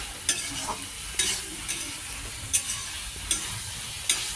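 Soybean chunks and fried potatoes sautéing with spices in a pan give a continuous sizzle, broken by repeated scraping stirs of a utensil at a steady pace, close up and with no talking.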